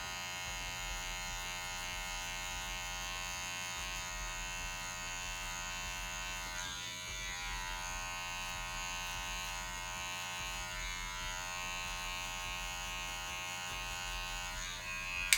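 Electric hair clippers fitted with a 1 guard trimming sideburns, a steady close-up buzz with a constant mains-like hum that runs unbroken, ending in a brief click.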